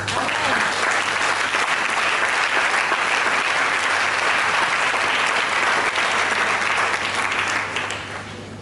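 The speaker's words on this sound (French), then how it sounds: "On va acclamer le Seigneur." A church congregation bursts into sustained applause and cheering for the Lord, a thick roar of clapping and voices that holds steady before tapering off at the end, with a low hum beneath.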